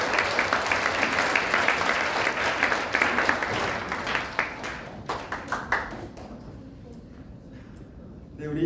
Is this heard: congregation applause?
yes